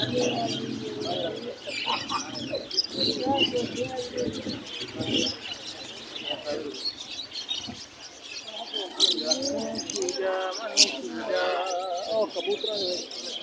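Birds chirp and call near at hand, pigeon-like coos and parrots mixed in, while people talk over them through most of the stretch, in Kot Addu, Pakistan.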